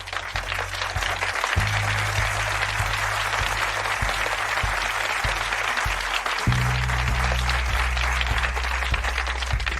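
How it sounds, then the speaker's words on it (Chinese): A crowd applauds steadily and loudly in a Chinese hospital meeting scene, with the clapping sustained throughout over low tonal music. "鼓掌！"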